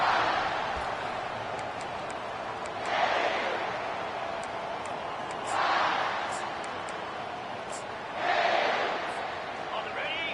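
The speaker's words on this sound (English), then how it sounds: "This crowd bringing an ear-splitting welcome to their visitors" A stadium crowd in the Madden 24 football video game swells in three broad waves of cheering over a steady murmur, while a commentator talks throughout.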